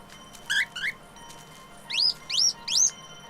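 A released bird chirps in a drama scene, two quick rising tweets followed by three louder sweeping chirps, close and clear over a quiet background, with no voices.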